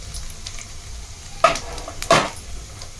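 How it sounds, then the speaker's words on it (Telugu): Cumin and mustard seeds sizzle and crackle in hot oil, a steady close frying hiss broken by two louder bursts as seeds pop or are stirred. "ఆయిల్ వేడయ్యాక దాంట్లోకి జీలకర్ర, ఆవాలు వేసుకోవాలి."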